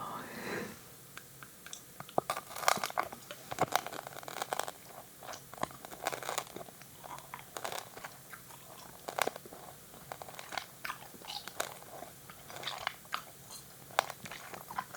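Close, soft gum chewing for bedtime ASMR, with moist, sticky smacks and clicks repeating in an uneven rhythm throughout, quiet and intimate, no clear talking.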